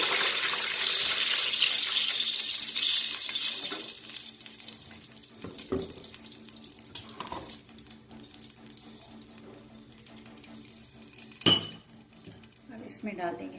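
Water poured into hot ghee in a cooking pot for coconut rice hisses in a bright sizzling burst for a few seconds, then fades to quiet simmering broken by a few sharp clinks of utensils against the pot.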